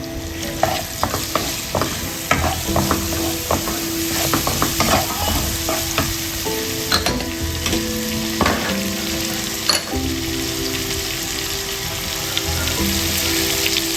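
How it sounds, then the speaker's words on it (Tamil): Potato, carrot and beans frying for rava upma, with a steady sizzle and frequent clinks and scrapes of stirring, loud and close. "இதே மாதிரி கொஞ்சம் நல்லா ஃப்ரை ஆகும்."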